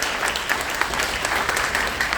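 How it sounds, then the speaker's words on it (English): Cruise ship audience applauding military kids during a military appreciation day on the Carnival Dream, a dense, steady wash of many hands clapping at a fairly close, even level throughout. "Give them a big round of applause, yeah?"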